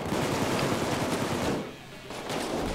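Gunfire fills a bank-robbery video game shootout with snipers, heard as dense, rapid, loud shots with a brief lull before the firing resumes.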